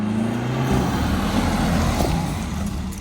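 BMW G20 engine fitted with a modified stock intake, idling or revving steadily at close range, a continuous moderately loud rumble throughout.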